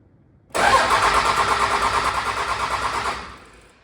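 A Cummins 24-valve diesel, worked on for a head gasket replacement, cranks hard on its starter for about two and a half seconds in a loud, fast, rhythmic churn, then dies away without clearly catching.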